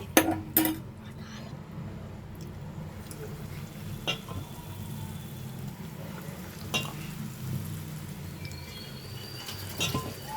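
Bonda batter balls fry in hot oil with a continuous bubbling sizzle, punctuated by a few sharp clinks of a utensil against the pan.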